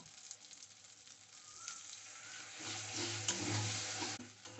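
Beaten sour curd is stirred into masala frying in oil for a curd okra dish, giving a soft sizzle that swells louder partway through, with faint stirring scrapes; quiet and close, no voices.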